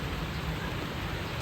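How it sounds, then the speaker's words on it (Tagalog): Rain falls on a rooftop during flooding in Bulacan, a dense, even hiss of heavy rainfall that stays steady and close, with no one speaking. "Lumalakas na yung ulan."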